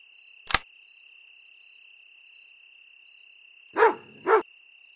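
Two short cartoonish dog barks from the bedtime game Nighty Night, close and clear, ringing out near the end over a steady backdrop of chirping crickets, with a single soft click earlier.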